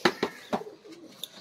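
Pigeons of an old breed kept by a fancier coo softly nearby, a few sharp soft pulses followed by a low, quiet murmuring coo.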